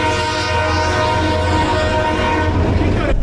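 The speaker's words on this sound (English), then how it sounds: "Did I hear a train?" A train rumbles steadily past while its horn blares in one long sustained blast, loud and close, ending with a brief clatter.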